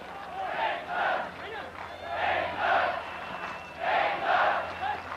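A large stadium crowd at a 1986 World Cup semi-final, England against West Germany, roars in repeated swelling waves of cheering and shouting, loud and sustained, with a commentator's voice faintly underneath.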